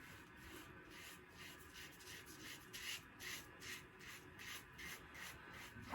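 A DAFT safety razor scrapes across stubble in short, repeated rasping strokes, about two a second, quiet and close with soft rubbing between strokes.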